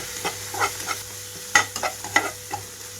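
Egg fried rice with chilli sauce and soy sauce stir-fried in a pan over a high flame sizzles steadily, and a spatula scrapes and clatters through it several times, close and alone.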